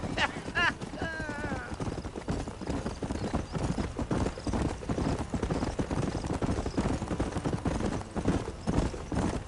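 Horse hooves clip-clop steadily and close while riding in Red Dead Redemption, with a brief whinny at the start and voices talking over the rhythm.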